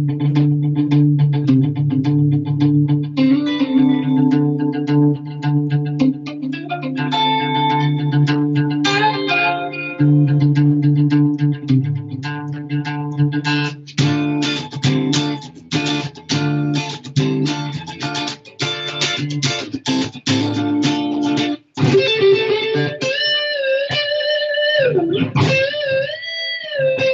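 Electric guitar through a Line 6 Helix plays a long passage, opening with delayed picked notes that repeat and trail off, then moves into denser distorted rhythm chords and bent lead notes, steady and fairly loud with no talking.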